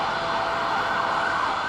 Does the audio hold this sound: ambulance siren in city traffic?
yes